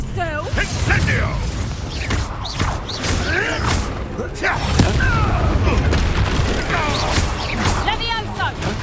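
An Incendio fire spell cast in the video game Hogwarts Legacy: whooshing bursts and heavy thuds recur through a busy duel, with voices shouting over the combat.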